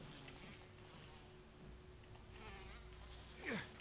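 A swarm of insects, bugs or bees, buzzes in the game Resident Evil Remastered as a faint, continuous whining drone with a few fluttering passes and a louder buzz near the end.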